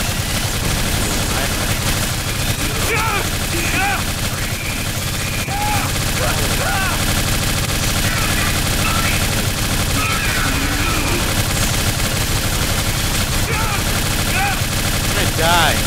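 Gunfire during a firefight in the game BioShock Infinite: dense, constant shooting and explosions under a loud wash of noise, with scattered shouts and voices buried in the mix.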